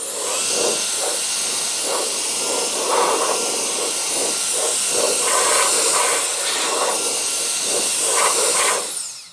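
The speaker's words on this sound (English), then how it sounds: "I'm going to give it a quick blow off." Compressed air blowing dust off a motorcycle headlight, a loud continuous hiss lasting several seconds close to the microphone, with faint knocks and rustles underneath before it cuts off.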